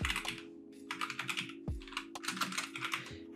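Close, quiet clatter of computer keyboard keys as code is typed, in quick bursts of keystrokes separated by brief pauses, with no voices.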